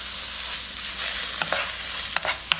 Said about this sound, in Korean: 이렇게 해서 중불에서 살살살살 익게 볶아주세요